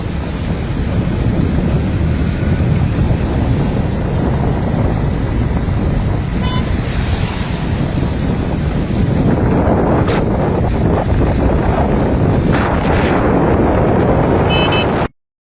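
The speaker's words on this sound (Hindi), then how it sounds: "इन टाइम सैलाबी रेला पूरे शहर ही दाखिल थी गए।" Loud, steady roar of floodwater rushing into a town in Taunsa Sharif, Pakistan, with heavy wind buffeting the microphone, continuous and close throughout.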